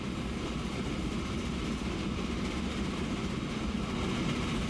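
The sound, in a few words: train running in Transport Fever video game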